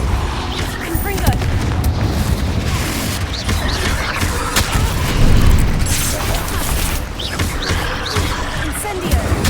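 Confringo fire-blast spell exploding in the Hogwarts Legacy video game, a steady rumble of booming blasts and crackling impacts running throughout, with one louder surge midway, over game ambience.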